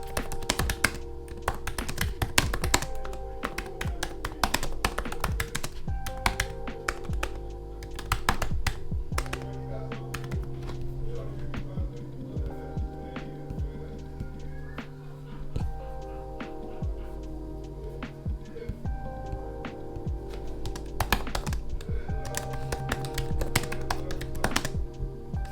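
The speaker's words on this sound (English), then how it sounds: "here's a little test of what the keyboard sounds like." Continuous typing on a Surface Laptop Studio keyboard, close and crisp, with quick irregular clicks and occasional heavier taps running without pause for about twenty-five seconds.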